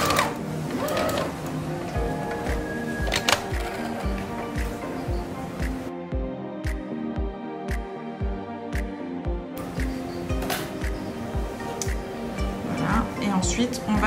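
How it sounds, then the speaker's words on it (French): A sewing machine set to its longest stitch runs a gathering line along a fabric sleeve head, a steady close rhythmic thumping of the needle with a brief pause partway, under a voice talking. "Vous vous mettez sur le point le plus long de votre machine à coudre."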